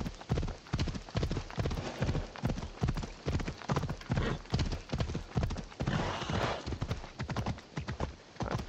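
A horse gallops in Assassin's Creed Odyssey, hooves pounding in a fast, steady, loud rhythm close by, with a brief whinny partway through.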